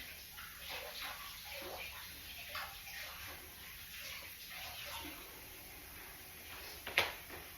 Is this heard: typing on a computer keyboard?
no